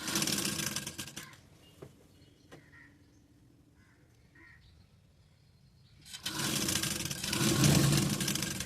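Sewing machine stitching around a blouse neckline, running in two loud bursts at the start and end with a quiet pause between.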